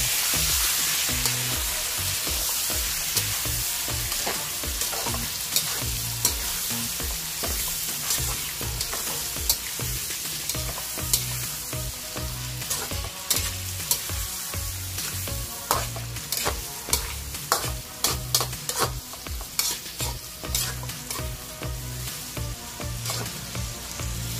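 Marinated chicken pieces with garlic sizzle and fry in a pan, a steady loud crackle broken by repeated sharp clacks and scrapes of stirring, with no talking.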